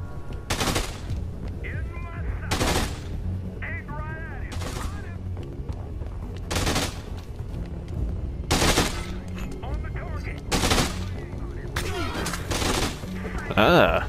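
Machine gun fire in the video game Dead Rising 2, several loud bursts spaced a couple of seconds apart, each sharp and close, with game voices and sounds in between.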